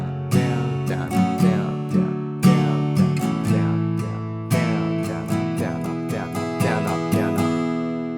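An acoustic guitar strums the chords of a song in a down-up pattern, close and clear, with ringing chords and crisp rhythmic strokes repeating throughout, and no voice.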